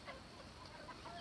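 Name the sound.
chickens clucking at feeding time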